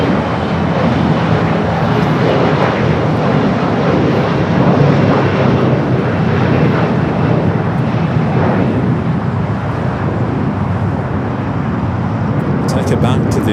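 Condor airliner taxiing at Los Angeles airport, a steady loud engine rumble and hiss continuing throughout with little change.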